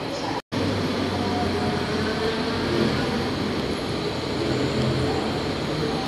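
Alstom locomotive number 4107 hauling rapid train 107 rolls into Don Mueang station, a steady loud rumble of wheels and cars running continuously close by, broken only by one instant dropout near the start.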